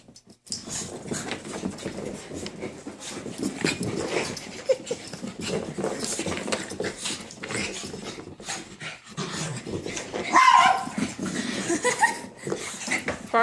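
Dogs, including a 15-pound dog, romp and play-fight with a 16-pound cat, giving off panting, growls, scuffles and a few whimpers in a busy, continuous tumble, with no clear barking.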